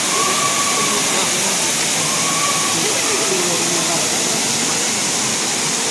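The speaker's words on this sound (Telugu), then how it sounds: "వాటర్ ఫాల్స్ అయితే చాలా బాగుంది. ఇంకా అక్కడంతా వాటర్ పడుతూ ఉంటే మొత్తం చలి" Katiki waterfall in Araku roars as a steady, dense rush of falling water, loud and continuous throughout with no pauses.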